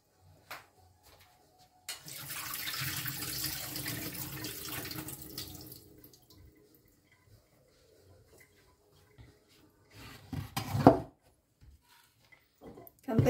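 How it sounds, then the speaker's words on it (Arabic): Water and salt are drained from cooked eggplant for zaalouk, a few seconds of close, splashing pouring that is followed by quieter kitchen clatter and brief bumps. "دابا غادي ندوز باش نصفي هاد من هاد الماء والملحه"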